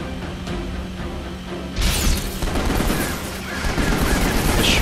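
Rapid gunfire erupts in Final Fantasy XV while driving, a dense sustained fusillade of shots with crashing impacts layered over steady engine and game noise, loud and close.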